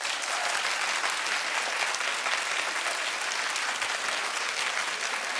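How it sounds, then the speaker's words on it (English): A studio audience at a talk show claps continuously and evenly, a dense wash of applause from start to finish. "Clap if you haven't seen it yet."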